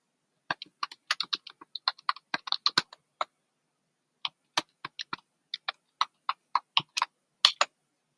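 An administrator password is tapped out on a computer keyboard in quick, close keystroke bursts, with a brief pause before a second run of evenly spaced clicks; no one speaks.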